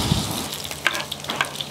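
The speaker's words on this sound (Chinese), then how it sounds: "现在放五花肉下来煸" Pork belly hits a hot wok with ginger and sizzles sharply up close, broken by quick crackles and pops as it is stir-fried.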